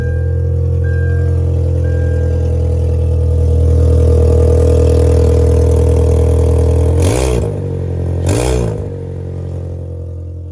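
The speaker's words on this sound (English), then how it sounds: "It's got some race car exhaust" Idling 2011 Kia Forte fitted with a loud race car exhaust holds a steady, rumbling drone, then gives two sharp revs near the end, each rising briefly and dropping back to idle.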